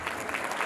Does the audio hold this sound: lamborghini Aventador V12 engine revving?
no